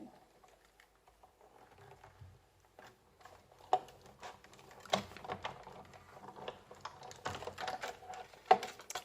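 A well-used Sizzix die-cutting machine presses a metal embellishment, making a series of soft clicking, ratcheting knocks that start faint and grow busier and louder as the handle is cranked.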